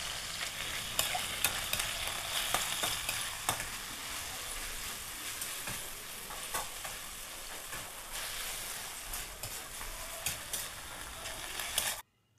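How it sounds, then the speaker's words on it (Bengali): Chicken pieces fry in hot oil in a home kitchen, a dense, crackling sizzle that runs steadily with scraping stirring sounds, then cuts off abruptly near the end. "এবারে চিকেনটা ভাজা ভাজা হবে।"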